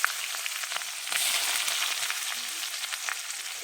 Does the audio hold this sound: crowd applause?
no